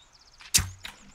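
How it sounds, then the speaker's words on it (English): One arrow is loosed from a bow in The Forest survival game, a sharp close twang and whoosh with a quick thud, set against quiet ambient game sound. "That was a waste of an arrow."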